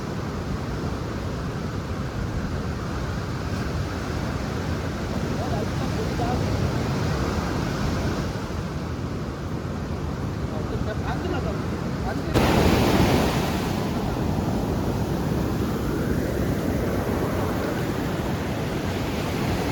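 Sea waves roll in at Hoode beach, heard as a continuous broad wash of surf mixed with heavy wind buffeting the microphone, with a louder gust partway through.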